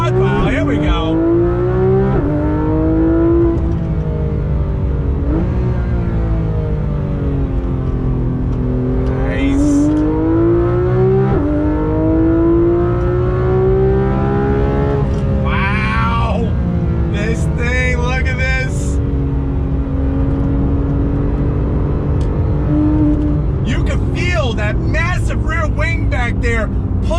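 A Porsche 911 GT3 RS engine revs hard under acceleration, its loud rising and falling tone climbing smoothly through the gears while a person talks over it almost continuously.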